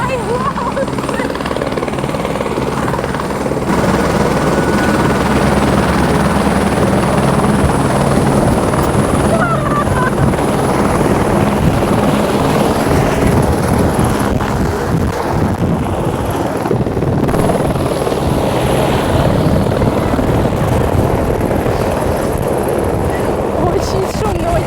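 Loud, constant rotor and turbine roar fills the cabin of a helicopter flying over Mont Blanc at about 5000 m, steady and unbroken throughout, with voices talking faintly underneath.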